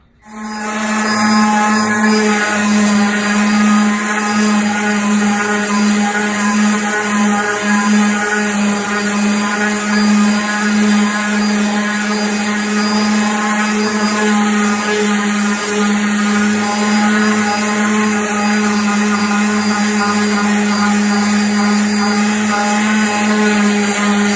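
A loud, steady whine of a power sander on a wood buffet top running continuously at close range, with a constant high buzzing hum and no pauses.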